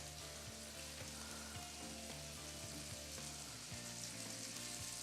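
Food sizzles steadily in a hot pan for a Native American cooking dish, a continuous close crackling fry with no voices over it.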